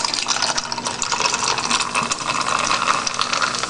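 Ginger ale poured from a single can into a container, a steady close fizzy stream of liquid with bright hiss running the whole time, loud and alone without any talk.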